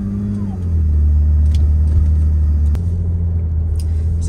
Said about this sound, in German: Selbst bei so niedrigen Geschwindigkeiten, dieser schöne Sound, dieser schöne Sechszylinder-Sound ist einfach genial.